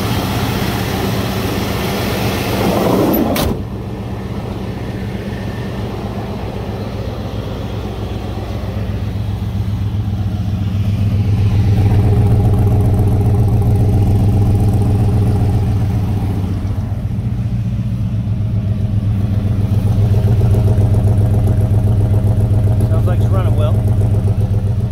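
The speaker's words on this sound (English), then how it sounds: "Motor sounds good." Engine of a 1987 Chevrolet C10 truck running steadily, a loud continuous low drone with a brief clunk early on, heard with a voice talking over it.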